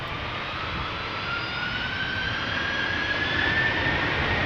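A Delta Airlines jet, Flight 73 to Atlanta, roars steadily on its takeoff run at Amsterdam Schiphol Airport, a loud, continuous engine blast with a rising whine, heard alone without voices.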